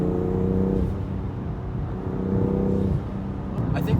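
A BMW M2 CS engine fitted with an Eventuri intake idles and revs from close by, a deep harmonic growl that shifts pitch a few times and stays strong throughout, with faint voices in the background.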